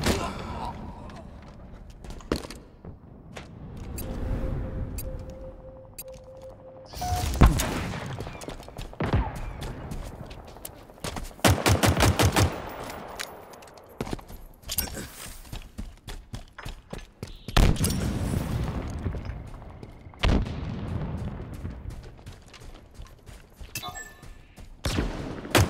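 Gunfire in the video game Halo Infinite comes as scattered shots and a few sustained bursts of rapid fire, loud at times. Voices talk in a busy mix of game sounds with it.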